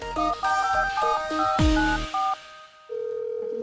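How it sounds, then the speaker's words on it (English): A melodic phone ringtone plays a quick run of electronic notes while a call is placed. A short burst of noise follows, then a steady outgoing ring tone, all clear with no voices. "This is Phone a Friend, and I will be calling my sister Alice to see if she can answer these questions for me"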